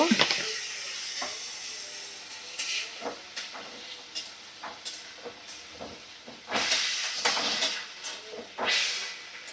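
Water poured onto sizzling masala with eggs and potatoes in a pan sends up a steady loud hiss and spitting sizzle, broken by soft stirring bumps and swelling bursts of steam.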